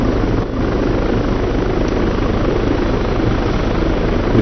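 Aircraft in Arma 3 racing down a runway at high speed, a loud, continuous roaring engine drone with rushing noise, steady and unbroken throughout.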